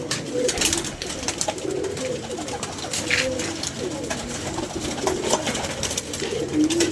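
Pigeons coo repeatedly amid a busy, noisy scene, low murmuring calls recurring throughout with faint background talk and rustling.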